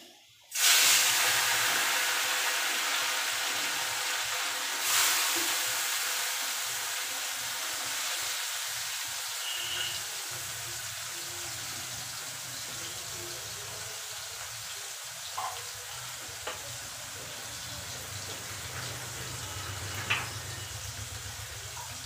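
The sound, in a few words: small mourala fish frying in hot oil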